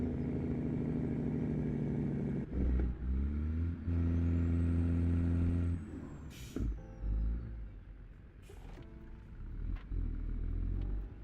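Classic truck in the American Truck Simulator game idles with a low, steady diesel rumble, interrupted by a few sharp hissing bursts like air-brake releases, with no talking over it.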